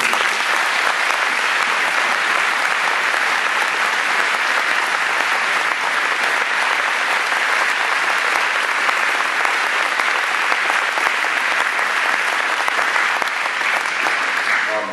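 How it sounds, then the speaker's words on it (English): Sustained audience applause at a 2011 graduation ceremony, dense clapping from a large crowd filling a hall, loud and unbroken for the full stretch. "And I think that deserves a round of applause."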